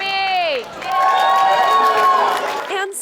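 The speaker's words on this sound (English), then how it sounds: "His friends and family cheering him on" Friends and family shout encouragement to a runner named Tommy at the start of a long, grueling hour-long run, voices calling out loudly close by over a murmur of crowd noise.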